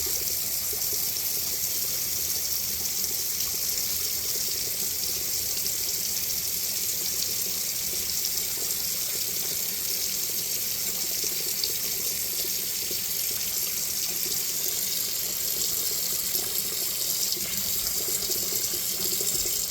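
Hot water faucet running steadily to purge air from a water heater on a well pressure tank system, a continuous, even hiss of flowing water alone for the whole span.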